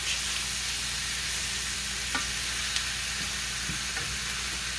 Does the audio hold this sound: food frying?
yes